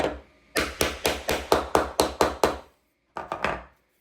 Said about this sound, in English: I'm just going to knock this one back in a bit more